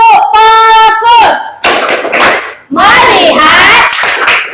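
Sharp hand claps in a quick rhythm mixed with children's voices chanting along in Indonesian in a classroom, loud and close.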